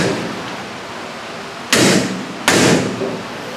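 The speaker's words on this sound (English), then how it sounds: "hold on to the hub and knock the ball joint out of the knuckle." Two heavy metallic strikes about a second apart as a ball joint is hammered out of the steering knuckle on a Polaris RZR UTV suspension, loud and close over a steady background hiss, no talking.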